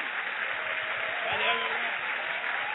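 A church congregation claps steadily during a worship service, a dense, even patter of applause with a voice calling out over it.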